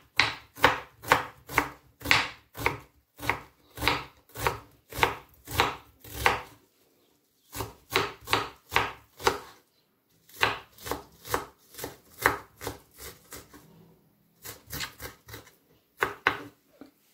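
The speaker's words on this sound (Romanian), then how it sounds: "Începem să tăiem ceapa" A knife chopping an onion finely into small cubes on a board, rapid evenly spaced close taps in several runs separated by short pauses.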